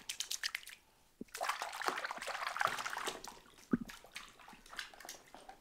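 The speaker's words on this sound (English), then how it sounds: "Do you like sound of the water?" Water splashes and sloshes in a bath as toys are played with and washed, irregular close splashing bursts with brief quiet gaps.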